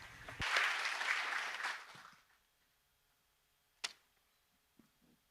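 A short burst of audience applause at a conference opening, welcoming a speaker to the podium, fairly faint, fading out after a couple of seconds, followed by quiet with a few small knocks.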